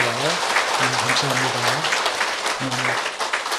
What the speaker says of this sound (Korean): 그 자리에 일어나 주시면 박수로 환영하도록 하겠습니다